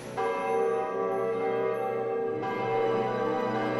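A large bell rings out with rich sustained overtones, struck once at the start and again partway through, loud and resonant with no voices.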